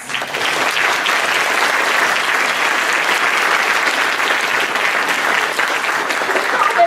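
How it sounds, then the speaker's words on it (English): A crowd claps for exhibitors at a Darwin Day educational gala in Sacramento, the dense applause rising quickly and holding steady for several seconds. "let's clap for those folks"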